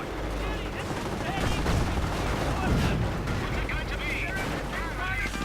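Bursts of gunfire pound a Firefly tank in a video game battle with advancing Panzers, a dense rattle of shots and impacts running continuously while a commentator talks over it.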